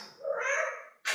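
A pet house cat gives a single drawn-out meow close by, rising and holding for about a second, followed by a brief sharp rustle; no talking over it.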